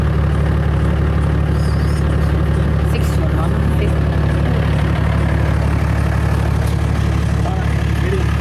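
Toyota Land Cruiser 80 series engine idling with a steady low rumble, close and continuous, while people talk over it.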